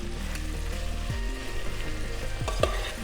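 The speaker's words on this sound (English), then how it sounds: "So that's the sound you want to hear. Just frying gently." Ingredients frying gently in a pan during a professional chef's cooking demonstration, a steady soft sizzle with light crackles and an occasional stir, close and continuous with no voices.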